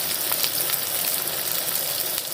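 Thinly sliced onions fry in a hot pan with a steady, dense sizzle that holds close and even throughout, without pauses and with no talking.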